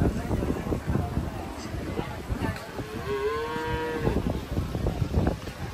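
Cattle low at Hazratpur livestock market, one clear drawn-out moo rising mid-clip over a busy crowd of overlapping voices and market bustle.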